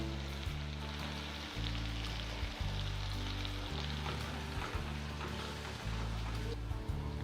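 Cumin and coriander with minced garlic sizzle in oil in a frying pan for Egyptian koshari, a dense, continuous crackle that stays close and even throughout.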